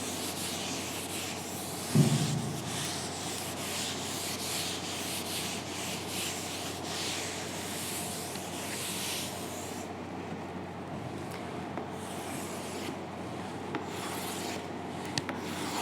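Chalk or a marker rubs steadily across a board during a chemistry lesson, a continuous scratchy sweep that carries on for the whole stretch, with one brief bump near the start.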